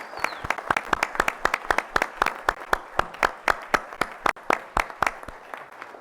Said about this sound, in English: I think you need a round of applause for 35 years of service.